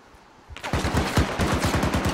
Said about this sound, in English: Shots fired inside the house or technical.